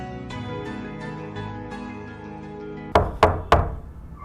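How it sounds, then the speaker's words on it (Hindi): Three sharp knocks land on a door in quick succession, close and loud, right after some background music fades down. "शिवानी, दरवाजा खोलो, आ जाओ, खाना खा लो।"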